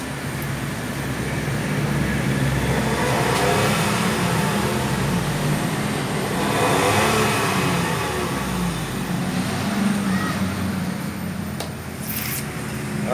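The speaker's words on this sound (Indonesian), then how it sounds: "Coba digas-gas." A 2010 Suzuki Karimun Estilo 1000cc engine fitted with an HHO fuel saver is revved, a continuous loud engine drone that swells and eases over several seconds without speech.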